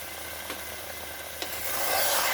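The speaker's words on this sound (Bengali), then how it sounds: "এখন মাংসটা দিয়ে 5 থেকে 10 মিনিট ভালো করে কষে নেব।" Mutton pieces, their white fat still attached, stirred and sautéed in a hot pan for a home-style curry, with soft scraping strokes over a steady sizzle that grows louder toward the end.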